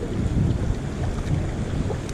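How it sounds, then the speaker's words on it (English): Strong wind buffets the microphone on a fishing boat near rocky shore off Groote Eylandt, a loud, constant roaring rush with no voices. "Gee, that wind, whoa. Bit of breeze in that wind."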